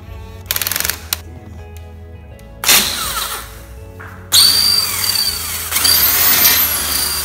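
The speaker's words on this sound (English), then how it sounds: "Just got to drill and secure the top acrylic." A power drill drilling acrylic whirs in several bursts, starting with a short stutter and then longer loud runs that rise and settle, close by.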